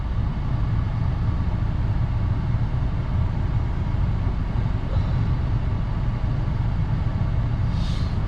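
A used Renault Samsung SM6 car being driven, with a steady low engine and road rumble filling the cabin throughout, no talk.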